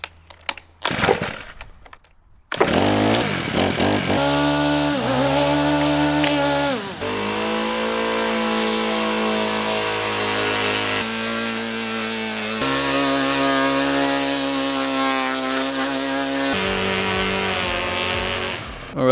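A petrol lawn edging machine is pulled and coughs briefly, then roars into life and runs loud and close, its engine revving up and down with a rasping, buzzing drone.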